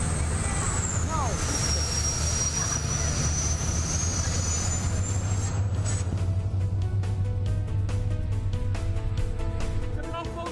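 A Back Cove Downeast 37 yacht runs at full speed, a loud, steady low engine roar mixed with rushing wind and water. A high whine sweeps across the first half, and voices speak faintly underneath.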